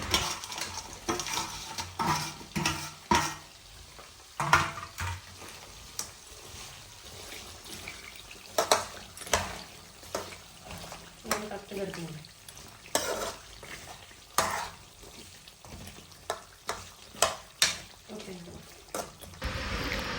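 Chicken pieces fry in ginger garlic paste, with intermittent stirring scrapes and taps over a low, wet sizzle that runs throughout at moderate volume.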